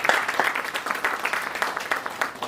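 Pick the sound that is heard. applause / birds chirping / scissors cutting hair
applause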